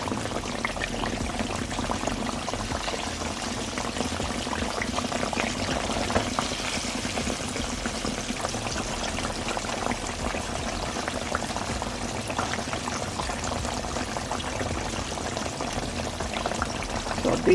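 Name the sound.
mustard pork chops frying in a pan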